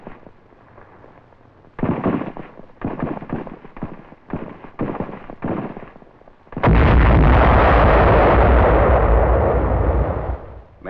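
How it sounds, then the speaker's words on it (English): Archival wartime beach landing with small arms and mortar fire: a series of sharp, separate blasts and cracks, followed by a long, heavy roaring rumble that fills the last seconds, loud with no talking. "The attack follows a bombardment by cruisers and destroyers of the 7th Fleet. Opposition is moderate on the beach, although our troops are brought under small arms and mortar fire."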